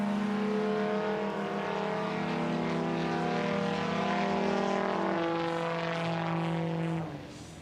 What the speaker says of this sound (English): Listen to these 2 Yamaha engines.